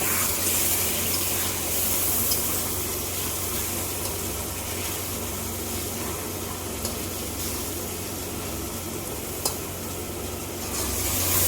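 Water poured into a curry masala in a hot pan and stirred, giving a loud, continuous hiss and bubbling sizzle that holds steady throughout, with faint scraping and no voices.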